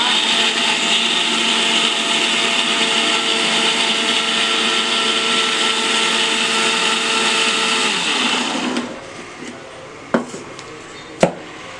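A mixer grinder whirs loudly and steadily as it blends shallots and coconut for a Tamil fish curry paste. It runs continuously for about eight seconds, then cuts out, leaving two short knocks in the quiet.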